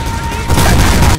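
Rapid shotgun blasts from the Coyote weapon in Devil May Cry 5 roar in a dense, continuous barrage, loud and close, swelling halfway through into a heavier wall of gunfire.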